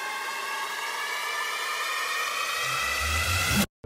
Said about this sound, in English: Now play this riser with some other white noise sweeps and risers.